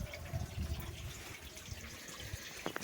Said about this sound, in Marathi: झिरपत आहे पाणी बघा, झिरपून येते मित्रांनो पाणी